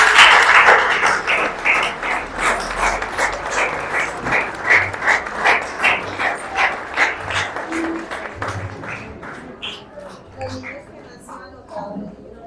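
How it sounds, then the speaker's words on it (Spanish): A church congregation at a Spanish-language service bursts into loud applause that settles into a regular, rhythmic clapping beat, then thins and fades out near the end as a few voices come through. "Denle un fuerte aplauso al Señor."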